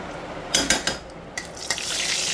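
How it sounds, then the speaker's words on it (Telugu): Hot oil crackles and sizzles as mustard seeds, black gram lentils and cumin fry, with a few sharp pops and spoon clinks against the pan. "చూస్తారు కదండి, పోపు వేగుతుంది"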